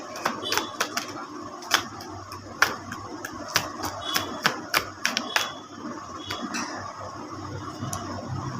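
A smooth-finished tarot deck is shuffled up close, its cards giving sharp irregular riffling clicks and snaps that come in quick bursts and then thin out into lighter taps. A voice speaks faintly underneath.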